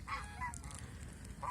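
Geese honking on a goose farm in Mohanganj, with loud nasal calls in short bursts at the start, middle and end over a steady low rumble, no talk.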